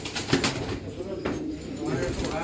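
A Kasni Lalu Maxi pigeon at a Hyderabad farm loft gives soft, low cooing close by, brief and partly under a voice.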